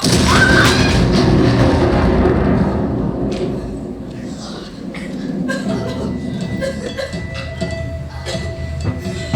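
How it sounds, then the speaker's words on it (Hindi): A loud booming blast in a stage drama performance opens, then settles into a rumbling, crumbling tail with scattered clatter and debris fading away. "और एक तेज धमाका हुआ।"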